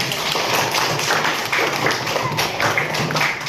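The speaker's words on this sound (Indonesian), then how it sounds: "tepuk tangan sekali lagi" Audience clapping at a teacher coaching presentation in Indonesia, a steady dense patter of many hands filling the room, fairly loud, with faint voices underneath.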